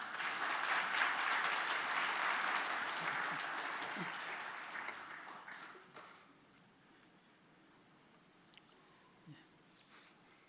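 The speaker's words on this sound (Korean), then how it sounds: "우리 나오실 때 환영의 박수 부탁드리겠습니다" A church congregation at an afternoon service in Ulsan applauds to welcome a newly appointed education pastor, a moderately loud wash of clapping that fades out over about six seconds, leaving a quiet room with a few faint knocks.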